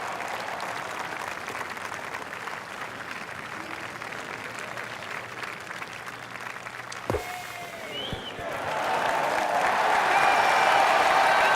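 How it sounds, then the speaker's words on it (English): Crowd at a golf course in an EA Sports Rory McIlroy PGA Tour game, steady applause and cheering that swells louder after a sharp club strike near the end. "the crowd are going crazy"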